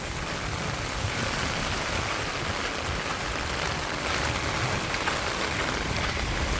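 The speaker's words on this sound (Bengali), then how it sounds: "বৃষ্টিতে ভিজেই গেলাম।" Steady rain pours onto a street in the busy Al Satwa area of Dubai, forming a dense, even hiss that stays loud and close throughout, with no voices.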